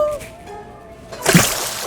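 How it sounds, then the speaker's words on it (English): Water splashing in a bathtub during bath time, a sudden burst of sloshing splashes in the second half that follows a stretch of faint voices and quieter background sound. "Splash in the bathtub."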